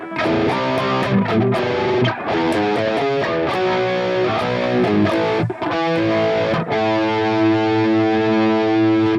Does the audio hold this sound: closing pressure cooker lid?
no